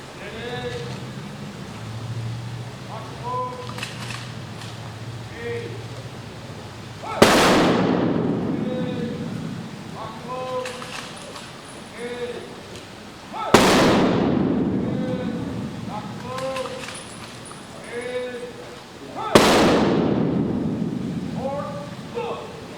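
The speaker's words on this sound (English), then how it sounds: "prepare yourself for 3-round volleys" Three rifle volleys fired at an outdoor veterans' ceremony, each a loud sharp crack with a rolling echo, spaced several seconds apart, with voices and crowd noise between them.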